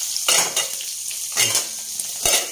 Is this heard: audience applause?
no